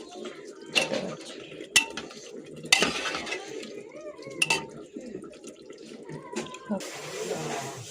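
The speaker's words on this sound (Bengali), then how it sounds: "জল ঢেলে দিলাম।" Water poured into a cooking pot in a home kitchen, with clanks of pots and utensils cutting through a running, splashing pour at moderate volume.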